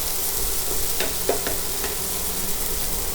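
Potatoes frying in a pan, giving a steady close sizzle and crackle with a couple of faint utensil taps, no voices.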